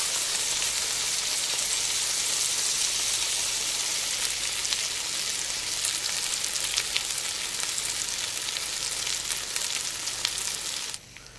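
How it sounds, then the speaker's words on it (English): Chopped onions sizzling and frying in a paella pan, a constant dense crackling hiss that stays even and close throughout, with no talking over it. "So as the onions are cooking"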